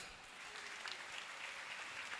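A church congregation claps in praise to God during an evangelistic gathering, a faint, continuous wash of many hands heard from a distance.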